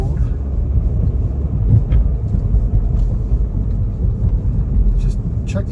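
A car accelerating quickly up a road on a frigid Toronto night, with a steady low rumble of engine and tyre noise heard from inside the vehicle, loud and continuous throughout.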